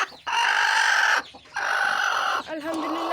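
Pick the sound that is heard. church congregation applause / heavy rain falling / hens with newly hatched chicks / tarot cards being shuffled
hens with newly hatched chicks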